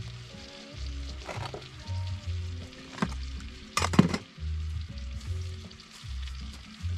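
Food with a splash of wine simmering and sizzling in a pan at a campsite, a quiet bubbling hiss punctuated by a few sharp clanks and scrapes of a utensil, with low rumbling in the background.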